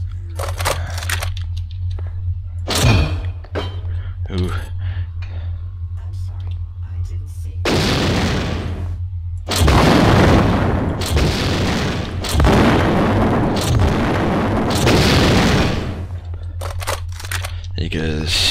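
Gunfire and blasts in System Shock 2, a series of loud, broad bursts arriving in clustered volleys over steady game ambience and low hum, with short pauses between the heavier stretches.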